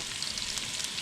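Onions sizzling in a pan with mustard seeds for a redfish curry, a brief, dense, steady hiss heard close and alone.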